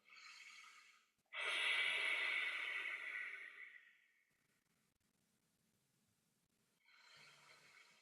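Audible throat breathing in a Darth Vader–style ujjayi exercise: a short hissing breath, then a long, loud, raspy exhale lasting nearly three seconds that fades out, a pause, and another breath beginning. Close and alone, with no talk.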